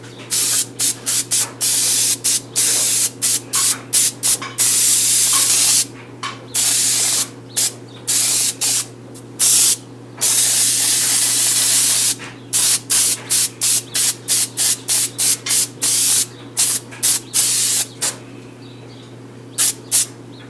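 Amber stain sprayed from an airbrush-style sprayer onto a wooden cartoon-character sign: loud, close hissing bursts, some long and many short, rapid on-off pulses over a steady low compressor hum, no talk.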